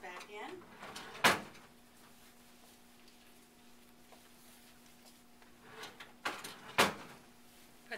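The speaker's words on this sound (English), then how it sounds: "Removing one of my gloves so that I have a clean hand to open the drawer." A bedside supply drawer in a care setting slides and thumps shut twice, with sharp clacks a few seconds apart, against a quiet room with a low steady hum.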